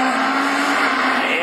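Rallycross cars roar off the start line at Lessay, a dense, loud wall of engine noise with tire squeal, several cars accelerating together without a break.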